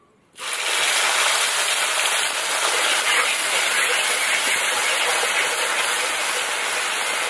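Onion, ginger, garlic and tomato paste hit hot oil with whole spices for a chicken curry, bursting into a loud, steady broadband sizzle after a brief quiet start and holding constant throughout, with no talking.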